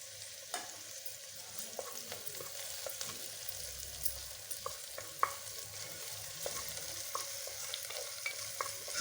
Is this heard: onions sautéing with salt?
yes